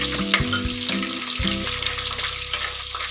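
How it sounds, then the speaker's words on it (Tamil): Small onions sizzle and crackle steadily in hot oil for a fish curry, a close, continuous frying hiss with a few stirring clinks near the start. "வெங்காயம் நல்லா பொரியிற வரைக்கும் வெயிட் பண்ணுங்க."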